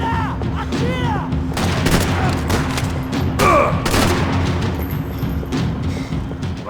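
Gunfire erupts in a Max Payne 3 shootout, with dense bursts of loud, sharp shots and booms in rapid clusters over continuous game noise, and a voice shouts briefly in between.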